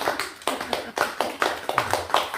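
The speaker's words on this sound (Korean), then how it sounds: "박수가 막 터지게 되는데." A small group claps in scattered, uneven bursts during a Buddhist dharma talk at a temple, with sharp hand-claps rising and falling over a couple of seconds.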